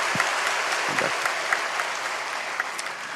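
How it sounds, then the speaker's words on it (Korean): A church congregation applauds warmly after a baptism and confirmation proclamation during a Sunday service. The clapping is steady and moderately loud, with a few sharper claps popping out of the wash of sound. "역시 박수로 뜨겁게 해주시기 바랍니다."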